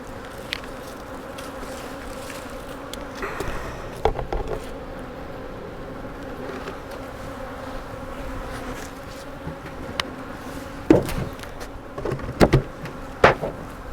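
Honey bees hum in a steady, moderately loud swarm above an open beehive in a bee yard, where burr comb full of honey sits on the frames. Sharper individual buzzes pass close by, coming more often toward the end.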